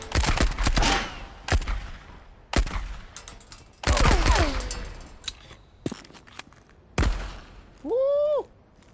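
WWII-style guns firing in the Marauders shooter game: several loud, sharp bursts and single shots spaced irregularly, with a brief rising electronic tone near the end.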